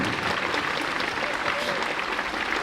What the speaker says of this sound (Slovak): Ak dovolíte ešte jeden veľký potlesk pre nášho moderátora